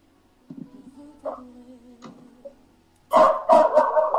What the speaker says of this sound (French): le chien en train d'aboyer toujours là